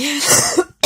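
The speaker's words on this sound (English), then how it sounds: "there's another cough" A short, harsh cough burst followed by a brief silence and the start of another cough, close and fairly loud.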